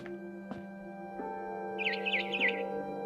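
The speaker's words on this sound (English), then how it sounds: "Then I heard chirping outside my window." A barn swallow in the video game What Remains of Edith Finch chirping, a quick run of bright, high trilling notes over a steady tonal music bed, preceded by two faint clicks.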